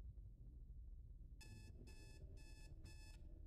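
Four evenly spaced bursts of a bright electronic alarm clock ring in a video game motel room at night, sounding over a steady low ambient rumble with no talking.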